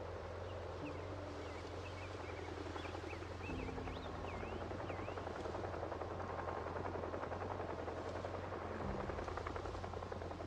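Helicopter circling in the zombie-survival game Project Zomboid, a steady low rotor drone holding throughout over faint ambient outdoor sounds, with a few distant chirping calls above.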